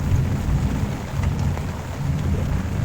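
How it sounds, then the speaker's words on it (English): Heavy rain pours down outside a tent during a Jodhpur camping trip, a dense, steady hiss with low rumbling thunder underneath, continuous and fairly close with no voices. "But it's raining crazy out there."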